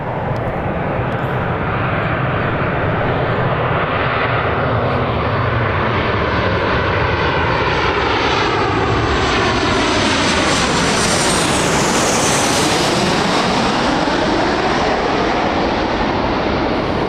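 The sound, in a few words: Ryanair jet airliner arriving at Birmingham airport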